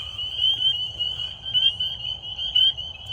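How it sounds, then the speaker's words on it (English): Southern leopard frogs call together in a small cluster during an outdoor wildlife survey, their steady chorus of croaks pulsing on and off at moderate volume with no one speaking. "we got a nice little cluster of southern leopard frogs here that have been calling"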